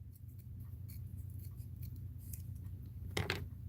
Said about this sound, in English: Now we are going to cut it.